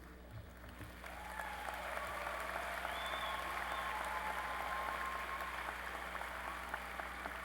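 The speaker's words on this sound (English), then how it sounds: "Let's applaud the graduate students." Steady applause from a large commencement audience in a university hall, honoring graduate students at a spring ceremony; the clapping swells after a second and holds as a dense, even wash of many hands.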